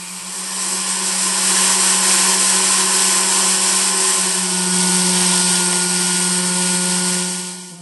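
A handheld rotary tool fitted with burrs carves a sculpture, giving a steady, loud high-pitched whine that holds nearly constant for the whole stretch with only slight shifts in load.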